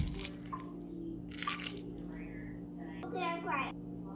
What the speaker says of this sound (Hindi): हम पानी डालेंगे।